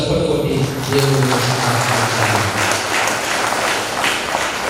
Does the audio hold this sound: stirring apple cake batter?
no